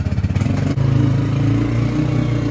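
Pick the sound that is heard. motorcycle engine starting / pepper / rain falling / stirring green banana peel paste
motorcycle engine starting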